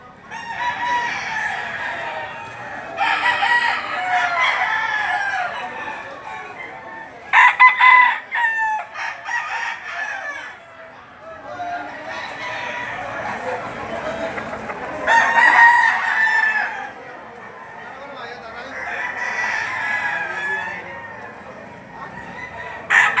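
Roosters crowing repeatedly alongside clucking hens at a poultry sale, several loud crows in bursts over a background of chicken chatter, no talk.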